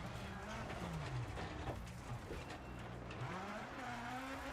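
Rally car engine in the EA WRC racing game drones and revs steadily throughout, with brief tire scrabble, under an occasional voice.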